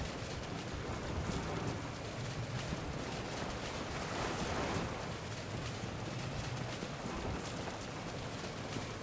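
Steady rain falls in a Zelda game on the Switch 2, a constant broadband hiss that holds evenly across the whole stretch with no voices over it.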